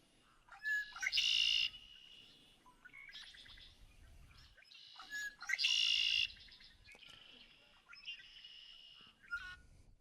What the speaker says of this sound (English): here's like the red-winged blackbird that's already up here. This is an early migrant, and here's what it sounds like.